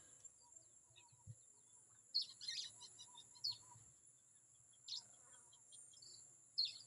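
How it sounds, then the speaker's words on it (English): Faint bird chirps come in short, scattered bursts over a steady high insect drone, quiet and distant with no talking. "You can hear the birds"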